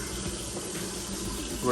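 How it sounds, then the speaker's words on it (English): Water being poured into a pot of rice, a small amount sloshing in a steady, continuous wash of sound up close, with a brief louder splash at the end. "just a little water, just a little bit. Slosh it around and put the rest of the rice in there"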